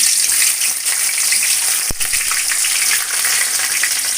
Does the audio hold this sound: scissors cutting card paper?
no